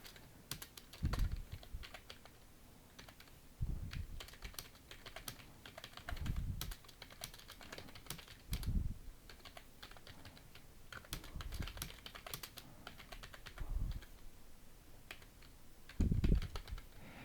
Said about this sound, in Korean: 그 다음 또 영어 입력하겠습니다